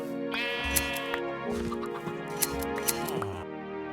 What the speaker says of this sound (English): I gave my sheeps a nice cut and took their wools